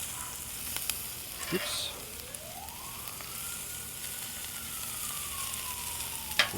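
Beef thrown onto a hot griddle gives a soft, steady sizzling hiss at close range, with a brief spoken word near the start and a faint rising whine in the background.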